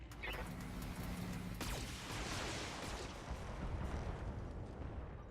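Weapons fire from a BattleTech mech sounds as a heavy salvo of booming blasts and crackling impacts, rolling into a sustained rumbling roar, loud and with no talking.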